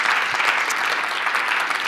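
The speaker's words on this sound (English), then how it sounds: "So a big round of applause again to everybody." Sustained, even applause fills a conference hall as the audience claps for the organisers and attendees, dense and steady throughout with no voices on top.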